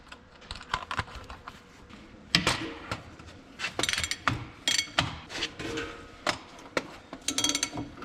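Bolts are loosened on an 1855 engine during restoration work, heard as sharp irregular metallic clicks and ratcheting bursts, close and clear, growing busier and louder partway through with no talking.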